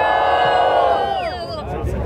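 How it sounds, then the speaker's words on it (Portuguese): Crowd at a rap battle cheers and shouts in a loud, dense burst, with whoops and yells rising above a general roar, close and sustained. "Quem curtiu as rimas do Thiago, faz barulho aí"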